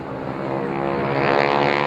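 Vintage WWII American basic trainer propeller plane, fitted with a roughly 130 to 180 horsepower engine, flying at the Lowestoft air show, a loud droning engine and propeller buzz that swells steadily as it approaches, with no voices.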